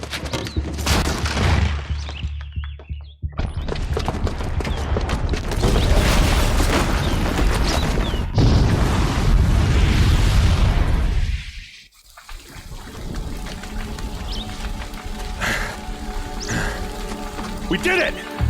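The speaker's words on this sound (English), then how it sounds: "the booby trap on the bomb downstairs is gonna get set off" A booby-trapped bomb detonates in Horizon Zero Dawn's Frozen Wilds: a loud, sustained roar of blast and debris rumbles for many seconds, breaks off abruptly into near-silence, then gives way to a quieter, lingering wash of settling noise.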